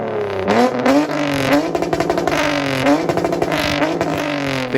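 A V6 car engine revs repeatedly, its loud, aggressive, high-pitched tone rising and falling in quick bursts up close.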